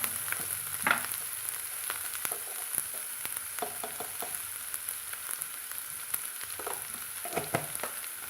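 Cassava masala with ginger and turmeric sautés in a pan, a soft, steady sizzle punctuated by repeated clinks and scrapes of stirring, fairly quiet, with no talk.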